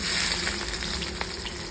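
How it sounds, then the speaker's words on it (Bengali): Onions sizzle in hot oil with dried red chilies, bay leaves, cumin and five-spice seeds, a close, steady crackling fry with faint stirring and no speech. "পেঁয়াজটা ভাজা হয়ে যায়"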